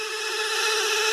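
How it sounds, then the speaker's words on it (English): Hammond L100 organ motor running with a faulty, steady whirring hum and a broadband rubbing hiss, constant and close throughout, with no talk. "Sounds to me that the sound you hear is actually from the motor, not from the wheels."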